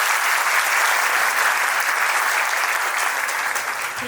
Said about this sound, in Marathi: जोरदार एकदा कडकडून टाळ्या ताईसाठी